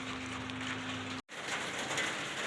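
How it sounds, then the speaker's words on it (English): Rain drums steadily on a tin roof, a dense, even patter close overhead, broken by a brief dropout midway, with a faint low hum underneath in the first half. "That's the rain on my tin roof."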